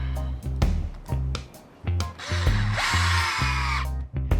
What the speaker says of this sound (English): we're going to shoot some screws down the top. Now I'm going to use just 1-inch screws